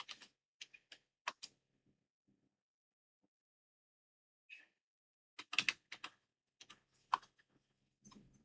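Scattered keystrokes as commands are typed on a computer keyboard, close and crisp, in short irregular bursts separated by silent pauses, with a denser flurry of clicks toward the end.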